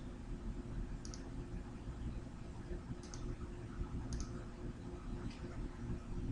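Mouse clicks on calendar date pickers in an online job order form: four faint, sparse single clicks spaced a second or more apart over a steady low hum.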